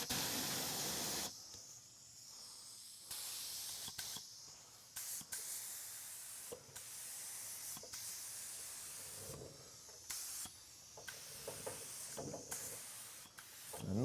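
Spray gun laying paint onto headlights in short hissing bursts, several separate passes with quiet gaps between them, close and fairly soft.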